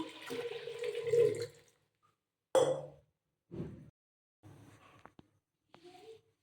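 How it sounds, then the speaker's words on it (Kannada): Water splashes into a pot of vegetables for bisi bele bath in several short bursts separated by pauses, with a light metallic clink near the end. "ಇವಾಗ ಇದರಲ್ಲಿ ಮಂಚ ನೀರು ಹಾಕ್ತಾಯಿದ್ದೀನಿ"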